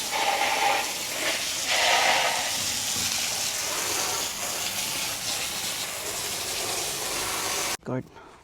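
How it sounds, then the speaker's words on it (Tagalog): Water gushes steadily onto garden soil in a loud, continuous hissing rush that lasts for several seconds and then cuts off abruptly, followed by a brief voice. "Damihan pa natin tubig para siyang gawing baha ba."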